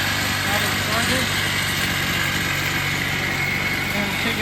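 A restored Cat Eye motorbike engine idles steadily up close right after starting, a continuous buzzing drone throughout with no clear pauses.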